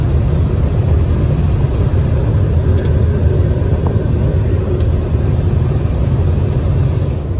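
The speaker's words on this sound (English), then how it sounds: "Trains have some crazy acceleration, and we're into the tunnel now." Sydney Metro train running through a tunnel, heard from inside the carriage as a loud, constant low rumble and roar with steady road-like drone and a few faint high clicks, no voices.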